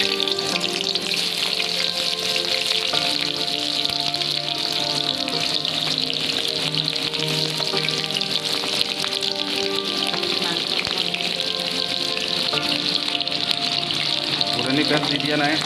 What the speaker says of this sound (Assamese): জালুক পিঁয়াজ দিব হৈ গ'ল।